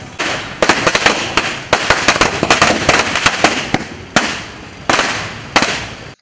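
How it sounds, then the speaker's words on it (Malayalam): Firecrackers set off at a street victory celebration in Kodungallur, Kerala: dense, loud strings of sharp cracks and pops, close by, rattling almost continuously with a few brief gaps and fresh volleys. "വിജയാഘോഷത്തിന്റെ ഭാഗമായി പടക്കം പൊട്ടിച്ചും മധുരം വിതരണം ചെയ്തു"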